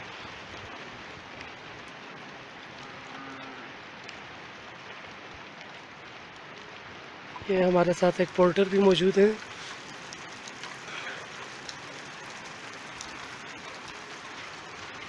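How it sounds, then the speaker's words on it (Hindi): Steady heavy rain hisses throughout in the mountains, fairly soft, while someone speaks briefly partway through. "काफ़ी तेज़ बारिश है।"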